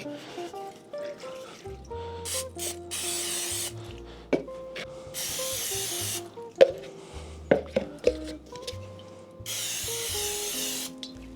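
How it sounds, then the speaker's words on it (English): Cooking oil is sprayed into containers while making gluten-free pizza dough: two or three short hissing bursts from a spray can, close by, between quieter clinks and rustling. "We're going to put we're going to spray some oil in them."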